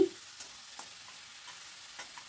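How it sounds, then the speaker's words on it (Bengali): Faint, steady sizzle of marinated prawns frying in mustard oil over high flame, with a soft knock at the start and light stirring ticks. "এবারে আমি ম্যারিনেট করা চিংড়ি মাছটা ভেতর দিয়ে দিচ্ছি, দিয়ে একটুখানি ফ্রাই করে নেব।"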